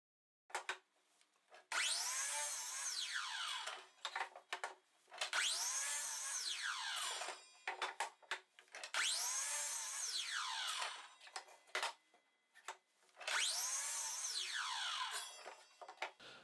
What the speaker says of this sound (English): Very simple, we just cut some squares off of a 2x4.